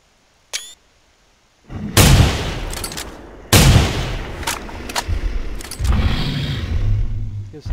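A rifle fires twice in the video game theHunter: Primal during a T-Rex hunt. Each shot is a loud, sharp blast with a long rumbling tail, the second following about a second and a half after the first.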